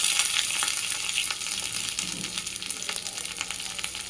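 Curry leaves and dried red chili frying in hot oil for a manathakkali keerai dish, a steady close sizzle and crackle with occasional stirring scrapes, no voices.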